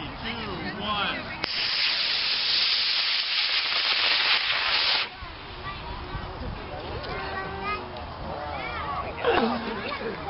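Model rocket with a long-burning motor launching from a pad at a large open-field event near Redmond, Washington: a loud, sustained roaring hiss that starts abruptly and holds for several seconds, then cuts off, with a crowd chattering around it.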